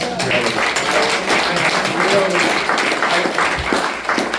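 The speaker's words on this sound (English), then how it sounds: "we need to give Steve Williams another round of applause" Audience applause for Steve Williams at a MassResistance political talk, a steady dense wash of clapping filling the room throughout, with some voices mixed in.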